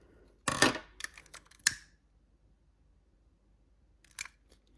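Scissors snip through ribbon while a Christmas ornament is made by hand: a few sharp, close crisp cuts in quick succession near the start, then quiet, then one more short snip.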